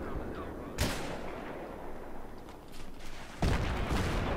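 Tank cannon and artillery fire in the video game Battlefield 3, with two heavy booming blasts about three seconds apart over a rumbling battlefield backdrop.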